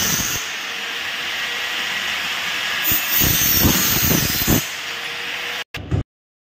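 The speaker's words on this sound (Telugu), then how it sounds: "అది ఆ చిన్న పీస్‌నైతే ఇప్పుడు నేను కట్ చేసుకుంటున్నా" A small piece of light profile is cut with a power cutter, giving a steady loud hissing whine with a few harsher grinding pulses midway before it abruptly stops.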